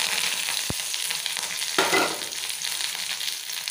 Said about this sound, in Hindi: तेल है गरम हो गए, सूखा मिर्च और मीठा लीम डालेंगे।